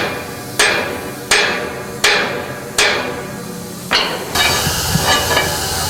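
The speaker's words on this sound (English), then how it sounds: "You can hammer it in from there." Steel spike being driven into a railroad track: five loud, sharp metallic hammer strikes land at an even pace, each ringing briefly, followed by a burst of clanking and scraping.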